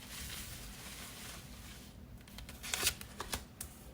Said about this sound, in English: I am now shuffling the Romance Angels deck.